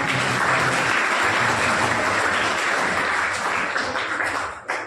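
Loud, sustained applause from an audience honoring guests at a school sweater-distribution event, dense clapping filling the whole span and tapering slightly at the end.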